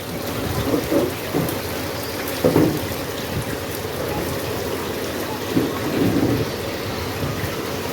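Heavy rain pours down steadily in a stormy outdoor setting, a dense constant hiss broken by low rumbles of thunder that swell and fade several times.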